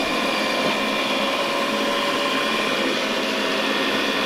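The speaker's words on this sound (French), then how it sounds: "La petite brosse latérale qui vient de sortir, comme tu peux le voir." A Dreame X50 Ultra robot vacuum runs with a constant high, even whir as it extends its side brush and arm, close and steady with no speech.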